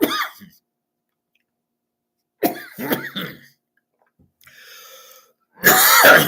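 Several harsh coughs and throat-clearing bursts close to the microphone, separated by silent pauses, ending in a loud, sustained hacking cough.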